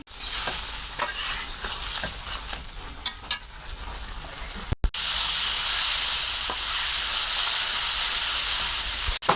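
Mutton curry sizzles and hisses in a pan with occasional stirring scrapes, a dense steady frying sound close by, briefly cut off midway before the sizzle resumes just as strongly.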